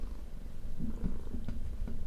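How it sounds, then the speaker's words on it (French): A small cat purring close by in a quiet room during an ASMR session, a low steady rumbling hum lasting about two seconds, with no talking. "Avec un petit chat. Petit chat, tu viens. Tu viens faire du ronron."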